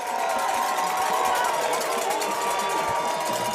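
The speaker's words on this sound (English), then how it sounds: "Crowd's getting into it. They're standing up." A packed high school football stadium crowd at Summit vs Independence cheers and roars as fans rise from their seats, a loud, steady wall of voices with no break.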